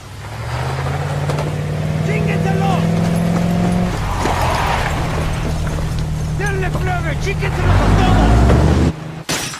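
A truck drives in the video game Ghost Recon Wildlands, with a loud, steady engine drone that shifts in pitch and roars louder near the end, mixed with other game sounds and voices.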